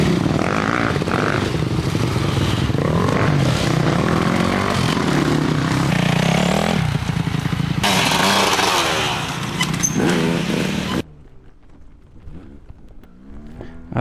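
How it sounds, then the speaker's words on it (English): Dirt bikes threading through the woods, engines droning and revving loudly and continuously for several seconds before cutting off, leaving only faint distant sound. "these bikes have to be able to thread their way through the woods without working the rider too hard"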